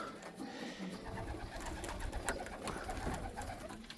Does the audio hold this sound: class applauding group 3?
no